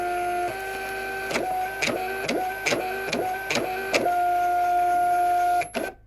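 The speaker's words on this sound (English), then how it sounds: "the printer is automatically going to kind of calibrate itself into where the paper needs to be" Munbyn Bluetooth thermal label printer calibrating its paper feed, a steady motor whir with a regular series of stepped mechanical pulses, close and clear, ending abruptly.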